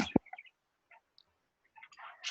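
Pet budgies chirp in short, sparse bursts in an indoor room, with one sharp click near the start and a denser flurry of chirps toward the end.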